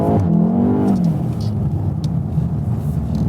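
A VW Golf 7 R drifting on a track produces a loud, close engine roar that revs up and then falls to a steady, throaty drone as the car holds the slide.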